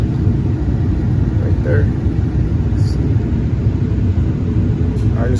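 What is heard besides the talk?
Ford F-250 V10 engine running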